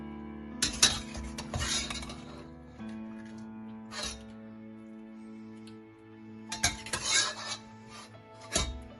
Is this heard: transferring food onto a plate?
yes